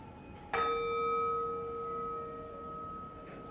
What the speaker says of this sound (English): as we begin with the sound of the bell